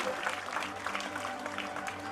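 A crowd at a primary school function clapping to honour an official, a continuous mid-level wash of many hands, steady throughout with faint voices mixed in.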